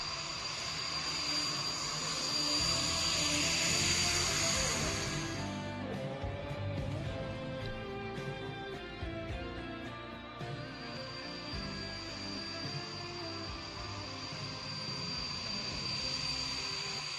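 A military fighter jet roars over the Purvanchal Expressway during a display, loud at first, then easing into a sustained distant rumble with a high whine running through it.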